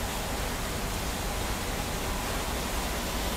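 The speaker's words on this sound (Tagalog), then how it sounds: "Tingnan natin kung paano umiyak ang makina ng barko." Broadband steady roar of a ship's engine running as the boat nears Puerto Galera port, a constant noisy wash with no distinct rhythm and no talking.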